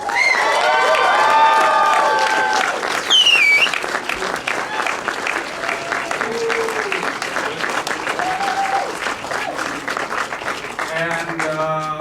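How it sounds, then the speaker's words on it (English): An audience at the Tribeca Film Festival world premiere of the film Stung applauds and cheers loudly. Whoops and shouted voices rise over the clapping, which gradually thins out. "Please give a warm applause for Adam Aresti, the screenwriter of this"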